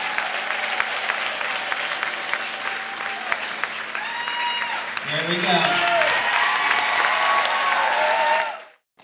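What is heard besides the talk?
applause after ceremonial ribbon cutting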